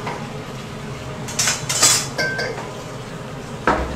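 An iron wok being swapped on a stove at a busy cooking spot, with several sharp metallic clanks and scrapes bunched in the middle and one more at the end, loud and close over a steady background hum.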